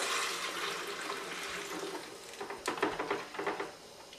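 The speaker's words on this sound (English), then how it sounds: "What I'm going to do is just take a hose, put a little water in there, mix it out" Water from a hose sloshes and splashes inside a wine-making bucket while rinsing out chardonnay residue, a steady wash of liquid building into choppier, closer splashes toward the end.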